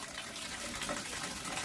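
Water gushes steadily from a tap into a bathtub for a bath, a continuous broadband rush that holds at an even level throughout with no voices.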